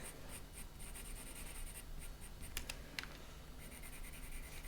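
Coloured pencil shading on paper with light pressure, a soft continuous close scratching with brief rhythmic strokes, quiet and alone with no talking.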